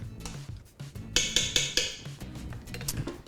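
Spoon stirring canned tomatoes into pork chile verde in an Instant Pot, a short run of scraping, clinking strokes against the pot, several quick rhythmic scrapes in a row, close and fairly loud.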